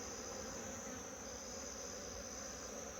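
Steady, dense honeybee buzzing fills the whole stretch, a continuous high drone like many bees swarming close by from an opened hive, with no voices.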